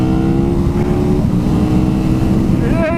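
A 2017 KTM 1290 Super Duke R engine drones loud and close under heavy wind buffeting, holding a steady roar before the pitch climbs sharply as it accelerates at the end.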